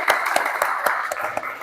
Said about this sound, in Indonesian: berikan tepuk tangan untuk kalian selama pembelajaran kali ini